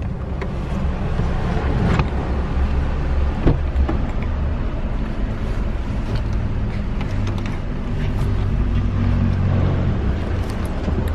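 A car being driven on Kauai gives a steady, loud, close engine and road rumble with constant low-pitched droning, occasional small knocks and rattles, and no talk.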